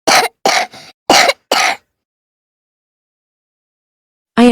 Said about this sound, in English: I am coughing.